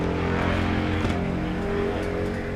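A Harley-Davidson King of the Baggers race motorcycle crossing the finish line at a MotoAmerica race gives off a loud, steady engine roar held close throughout, with a faint crowd wash behind it.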